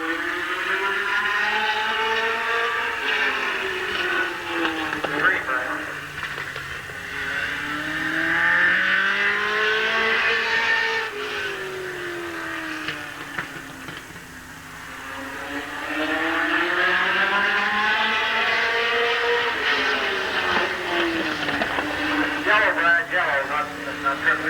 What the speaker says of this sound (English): Okay, out to qualify now. In the Diano race car.